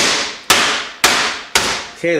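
Three hard, evenly spaced whacks of a ball peen hammer pounding beef for Sicilian skewers on a table, each a loud close smack with a fading ring, followed by a short burst of voice.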